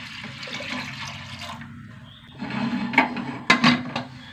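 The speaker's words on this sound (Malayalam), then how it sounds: "ആവശ്യത്തിന് വെള്ളം ഒഴിച്ച് കൊടുക്കാം." Water splashes and gushes into a pressure cooker holding dal with tomato, turmeric and salt, a close, steady pour that grows louder and more turbulent toward the end.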